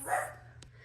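Dogs in a house give a single short, close bark, followed by quiet room sound.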